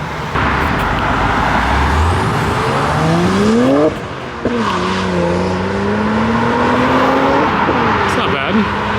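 A yellow Porsche at an outdoor supercar meet revs loudly nearby, its engine note climbing in two long sweeping pulls with a brief dip between, accompanied by faint tire and crowd noise.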